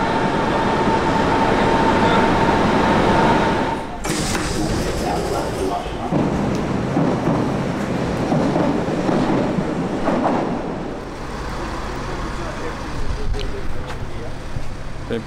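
Inside a Berlin train station, a train rumbles and clatters continuously with loud rail noise, a brief squeal of wheels, and a voice speaking faintly beneath the din.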